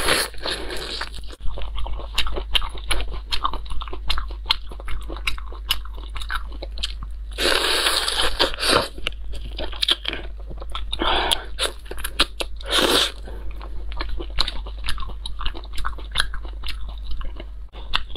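Small lemon-marinated raw shrimp being eaten up close, with steady wet chewing and repeated crisp crunching bites throughout, heavier crunch bursts coming now and then, and no speech.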